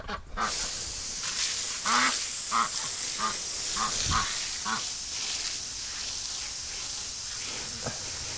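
A breeder duck quacks repeatedly while being showered with warm water in winter, a series of loud nasal calls in uneven bursts over a steady hiss of spraying water.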